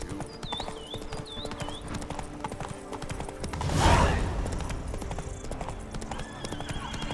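Geralt's horse Roach in Witcher 3 Next Gen, set in Toussaint, clip-clops along in steady hoofbeats with a whinny mid-way, under birdsong and ambient game sound; a brief spoken line occurs.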